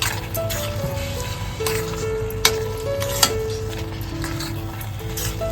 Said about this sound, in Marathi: याच्यामध्ये आता कोळंबी घालून घेतलेली आहे व्यवस्थित सर्व मिक्स करून घेतोय